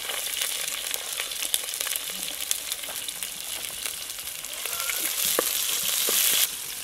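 Onion and garlic fry in a pan with dried red chillies, a steady crackling sizzle that holds close and even, growing slightly louder and busier toward the end before easing off.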